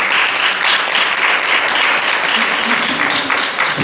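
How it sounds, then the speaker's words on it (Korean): A church congregation at a Sunday worship service applauds the young adults, with steady, dense clapping throughout and a faint murmur of voices mixed in beneath it. "청년들이 맛있게 식사를 교제를 나누는데 박수 한번 보낼까요?"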